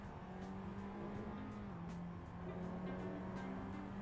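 Tatuus race car at Interlagos braking into turn one, engine note falling through a series of rapid downshift pops with tyres scrubbing, faint and distant under a rhythmic ticking and steady background noise.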